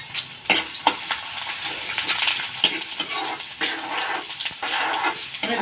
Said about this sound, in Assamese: অলপ ৰঙচুৱাকৈ ভাজি লোৱা হৈছে।